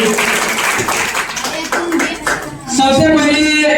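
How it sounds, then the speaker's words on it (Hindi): Loud, dense clapping from a crowd at a school Class 10 farewell program, sustained throughout with a surge toward the end and some voices mixed in. "जोरदार ताली होनी चाहिए इस कार्यक्रम के लिए"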